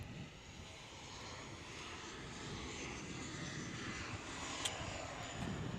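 A military transport aircraft passes overhead during a payload drop, its engines giving a steady, loud, broadband roar that holds for the whole span and swells slightly toward the end, with no talking.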